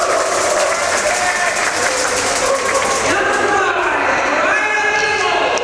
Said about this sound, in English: Loud cheer from the crowd.